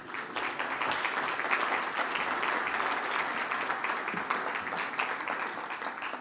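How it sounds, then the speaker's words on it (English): Audience applause at a chamber of commerce awards gala and talent show: steady, dense clapping from a full room, fairly loud and sustained throughout with no talking over it. "Thank you for that lukewarm round of applause."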